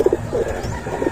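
A racing pigeon gives soft, close cooing notes in short pulses, with a brief pause between calls.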